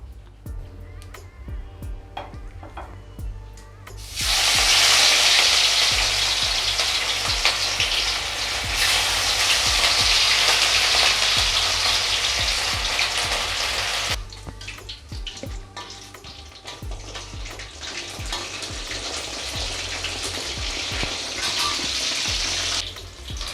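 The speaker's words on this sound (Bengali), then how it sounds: "তেলটা গরম হয়ে গেলে মাছ ভাজবো।" Katla fish pieces fry in hot oil for a Bengali kalia. After a quieter start, a loud, dense sizzling hiss begins, then continues strongly with slight swells for the rest of the clip.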